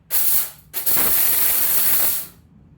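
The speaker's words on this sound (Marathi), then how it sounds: "आता मी इथे ही डाळ मिक्सरला फिरवून घेते" A mixer grinder pulses through roasted chana dal in two bursts, first a short whirring spurt, then after a brief stop a longer loud, hissing grind that cuts off abruptly.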